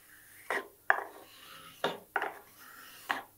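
Edge plane shaving a wooden edge, five short rasping strokes spaced about half a second to a second apart, close and fairly quiet with no talking.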